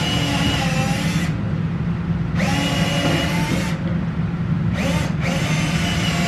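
A power drill whirs loudly and steadily, with several brief pauses and restarts as it bores a countersink hole into wood.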